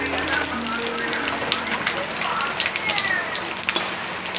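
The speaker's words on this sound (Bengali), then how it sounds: "এখন আমি ফোড়নটা ঢেলে দেব।" Dry red chillies and bay leaves spitting and crackling in hot oil as a tempering for tomato chutney, a busy close sizzle with sharp pops throughout.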